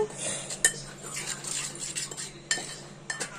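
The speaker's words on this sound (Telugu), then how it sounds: "సో ఫస్ట్ అయితే ఈ డ్రై ఇంగ్రీడియంట్స్ని మిక్స్ చేసేసుకుందాము" Dry ingredients for mushroom Manchurian are stirred in a bowl with a spoon, giving repeated close scraping and clinking against the dish in an uneven rhythm, with no speech.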